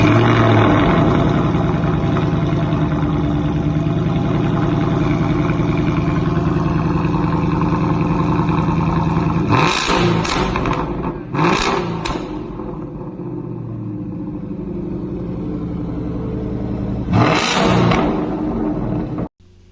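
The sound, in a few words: Ford Mustang GT engine revving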